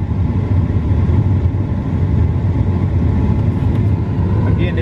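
A 2003 Dodge 1500 SS pickup truck with a 5.7 Hemi engine running, a loud, close, steady low rumble that holds even without revving.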